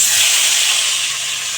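Chicken pieces go into hot white oil, topped up over mustard oil, in a kadai, giving a loud, steady, close sizzling hiss that fades slightly toward the end, with no voices.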